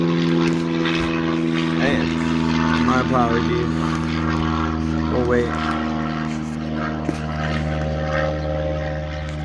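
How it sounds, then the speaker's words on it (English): A propeller airplane drones steadily overhead as a low, constant engine hum throughout, while someone talks over it nearby. "you guys hear the plane?"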